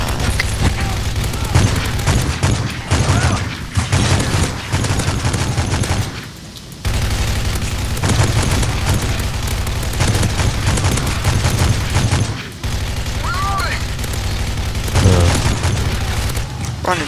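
Dense game gunfire from Modern Warfare 3 Survival mode, loud continuous bursts and booms filling the whole stretch with brief gaps, while a player talks over it.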